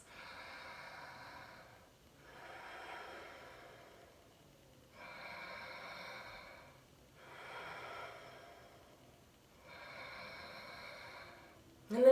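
Slow, steady yoga breathing held through the Dhanurasana bow pose, five long audible breath cycles, each a soft airy rush, close and alone, followed by a brief sharp noise at the end.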